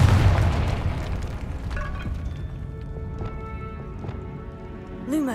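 A fiery Confringo spell blast in the video game Hogwarts Legacy goes off with a heavy boom at the start, then tails into a long rumbling decay with scattered chimes and magical sparkle tones.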